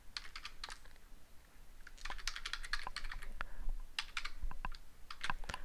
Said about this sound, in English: So I'm going to just type another one in.